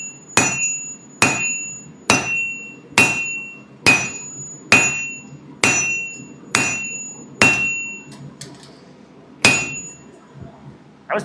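A hammer strikes metal about ten times at an even, steady pace, each ringing blow close and loud with a short metallic ring that fades between hits.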